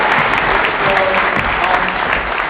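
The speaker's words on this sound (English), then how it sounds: "Give them a big round of applause," Audience at a startup pitch event giving a big round of applause, steady, loud, dense clapping throughout with no talking.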